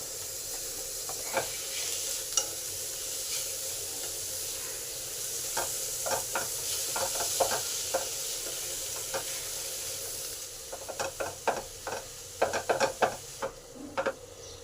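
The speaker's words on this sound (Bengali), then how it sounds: "সব মশলা কষা হয়ে গেছে এবার এঁচড় মাখাটা দিয়ে দিলাম" Mashed jackfruit is added to spices sautéing in a pan for fried chops, a continuous sizzle with intermittent spatula scrapes that grow busier and more rhythmic toward the end, close and fairly soft.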